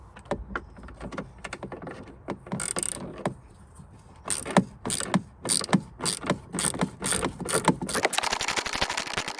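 Ratchet wrench loosening the two 10mm bolts on the coolant tank of a 2010 Hyundai i30, rapid clicking bursts close by, repeated in quick sets, then a denser continuous ratcheting at the end.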